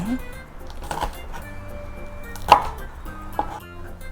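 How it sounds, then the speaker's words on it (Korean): A knife chops Cheongyang chili peppers on a cutting board, a few sharp separate knocks over a quiet kitchen background with a low hum. "칼질이 완전히 끝난 게 아니었어요"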